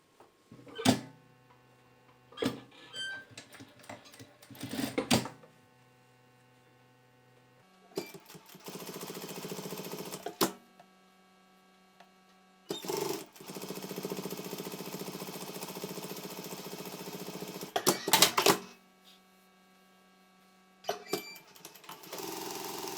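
Sewing machine stitching the strap of a simple fabric wallet, running in several bursts of rapid needle whirring, some short and some several seconds long, separated by quiet pauses.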